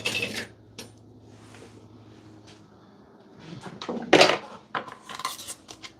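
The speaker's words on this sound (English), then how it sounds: "we are going to get our sausage started for our" A pan is handled on a home stovetop while sausage is started for biscuit gravy bombs, with scattered clanks, scrapes and knocks of cookware, a louder cluster of clatter toward the end over quiet background hum.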